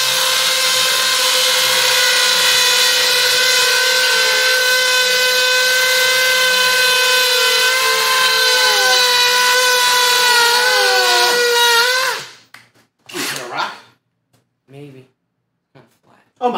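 Two hammer drills, a Milwaukee Fuel and a Kobalt XTR, run on speed two in hammer mode, boring into well-cured 5,000 PSI concrete. A loud, steady, high motor whine lasts about twelve seconds, then winds down and stops, followed by a few short knocks.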